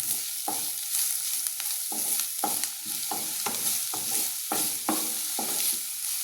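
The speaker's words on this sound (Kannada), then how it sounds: "ಹಸಿಯಾಗಿರೋದ್ರಿಂದ ನೀವು ಇದನ್ನೂ ಒಂದು ಸ್ವಲ್ಪ ಫ್ರೈ ಮಾಡಬೇಕಾಗುತ್ತೆ" Green chillies fry in a pan for North Karnataka junuka vada under a constant sizzle, while a spoon stirs them in a steady series of scraping strokes, close and clear with no talking.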